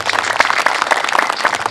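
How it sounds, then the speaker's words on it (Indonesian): A crowd at an Islamic religious gathering in a pesantren bursts into brief, dense applause, many hands clapping quickly together at close range. "Tepuk tangan."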